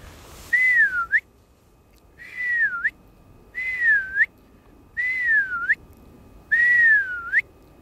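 A white-fronted goose call is blown with whistle-like airflow, giving five evenly spaced, thin whistling notes that sweep downward and break at the end, over faint background hiss.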